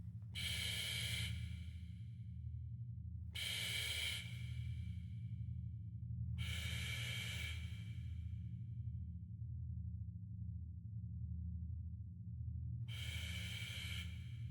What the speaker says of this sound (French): tout le bruit dans ma tête disparaît pour ne laisser place qu'à ma respiration